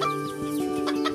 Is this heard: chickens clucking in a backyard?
yes